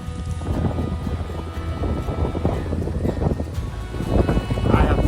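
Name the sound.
strong wind on a lake while fly fishing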